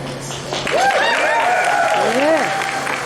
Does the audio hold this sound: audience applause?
yes